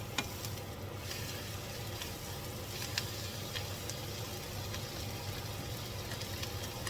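Wild mushrooms fry in a pan with a soft, steady sizzle and occasional small pops and taps, close and even throughout, no one speaking.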